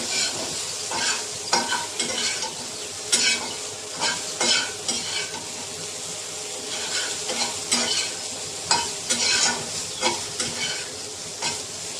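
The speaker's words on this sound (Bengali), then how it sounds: "আমার সয়াবিনটা ভেজে নিয়ে আমি একটু লালচে লালচে করে" Soya chunks fry in a pan and are stirred steadily, giving a constant sizzle broken by repeated scraping and clinking of the spoon against the pan, close and with no speech.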